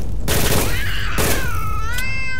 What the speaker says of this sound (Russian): А, кошка.